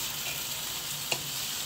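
Chopped pork liver fries with softened onions in a pan, giving a steady, close hiss of sizzling fat broken by one brief clink of a utensil against the pan.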